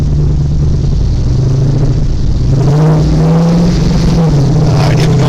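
A 1969 Chevrolet Camaro on a test drive: its engine rumbles loud and close from inside the car, pitch swelling and dipping as it accelerates and eases off, with no talking.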